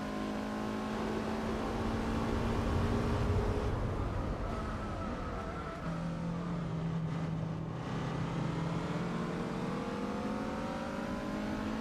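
A 294-horsepower car engine in Gran Turismo 4 revs up and accelerates hard through the gears, with rising and falling tones and shift dips in a steady, loud run with no talking.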